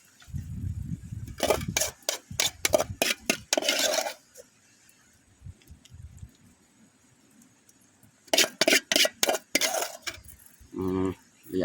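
Rat and bird meat stir-fried with holy basil in a pan, the metal spatula striking and scraping the pan in quick bursts of clanks, with a quiet gap between two busy stretches.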